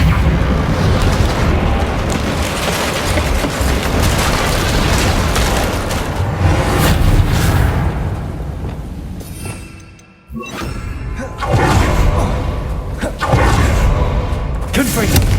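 A loud magical repair spell, Reparo, cast on a damaged bridge in Hogwarts Legacy: a sustained rumbling, whooshing rush of debris reassembling, briefly cutting out before surging back.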